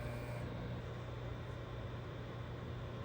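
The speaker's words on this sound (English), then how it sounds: "Let's see if it can handle the microwave oven." A microwave oven running on a Bluetti AC180 portable power station gives a steady, faint mechanical hum with a low tonal drone and a constant airy whir throughout, and no voices.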